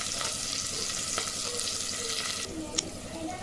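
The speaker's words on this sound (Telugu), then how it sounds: "ఇది కొంచెం లైట్గా ఫ్రై చేసుకుందాం." Paneer and cashews for pulav frying lightly in a pan, a soft continuous sizzle heard close, with a few faint clinks.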